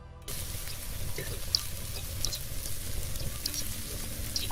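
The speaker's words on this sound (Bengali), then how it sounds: "একদম লো ফ্লেমে আমি এটাকে একটু তেলের মধ্যে করে সুন্দর মতো ভেজে নিচ্ছি" Whole cumin seeds fry gently in oil over a low flame for a Bengali potato-and-aubergine dish, giving a soft, steady sizzle with faint crackles and occasional small pops throughout, quiet and unaccompanied by talk.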